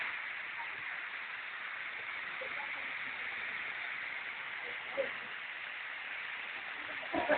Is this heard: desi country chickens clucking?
no